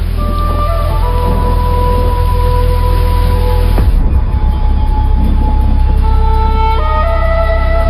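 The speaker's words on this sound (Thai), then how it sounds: "ในที่สุดสายฝนก็กลับมา" Heavy rain falling over the Amazon rainforest at the start of the November rainy season, a loud, steady wash throughout with clear tonal calls running over it; the texture shifts partway through but the downpour never stops.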